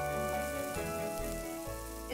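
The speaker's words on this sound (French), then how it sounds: "Maintenant, je fais cuire la pastèque" Watermelon cooking in honey in a pan gives a steady, close sizzle that holds at an even level throughout, with a few stirring shifts and no talk over it.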